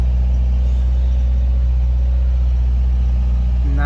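A 2017 Subaru WRX with a Mishimoto intake and Cobb tune idles nearby, a smooth, steady low engine hum that holds evenly throughout.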